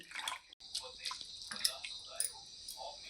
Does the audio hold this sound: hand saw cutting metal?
no